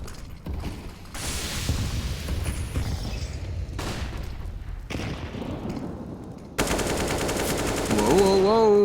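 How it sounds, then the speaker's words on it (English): Counter-Strike match on the Train map during a DreamHack Masters Spring 2020 esports game, with dense bursts of in-game gunfire and grenade blasts over a busy, loud mix, ending in a harsher ringing, tonal stretch. "Another smoke frag. And the grenade to follow up."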